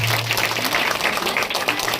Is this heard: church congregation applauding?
yes